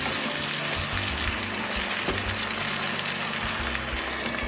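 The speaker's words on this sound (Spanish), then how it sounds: "termino de hacer el frito de tomate y cebolla para que quede hecho luego una salsa en la judía" Tomato and onion fry in a pan for a white bean and rabbit stew, a steady close sizzle and spatter throughout with no voices.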